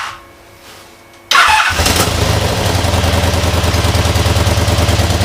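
A V4 engine, warm and a bit reluctant to start, is cranked over from silence and catches abruptly, settling into a loud, steady, close idle with a fast even pulse.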